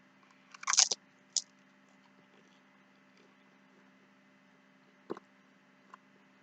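Nachos being crunched and chewed at a meal of Mexican food: a close, brittle burst of crunches, then a single crunch, then a few faint chews spaced apart over a quiet, humming background.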